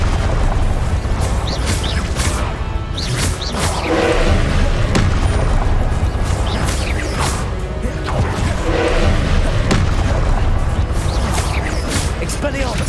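Heavy booms and whooshing bursts from the Confringo explosion spell in the Hogwarts Legacy video game land in quick succession, loud and close, with speech running underneath.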